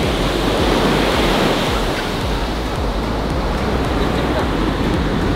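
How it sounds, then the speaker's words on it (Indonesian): Big rolling ocean waves crash and surge on a beach in Bali, a constant loud roar of surf with wind buffeting the microphone throughout. "Cari ombak gede, terus beneran ombaknya sangat gede, bergulung sampai sendalku hilang satu."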